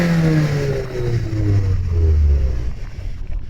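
A 2019 SEAT Cupra Leon 290 TSI engine revs up sharply and then drops away, a loud nearby exhaust note falling in pitch, heard alone without talk.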